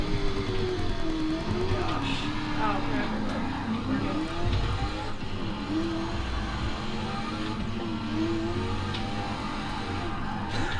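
Hennessy Venom racing in the video game Forza, with engine revving and accelerating and tires squealing through the whole stretch, heard over room noise and occasional talk.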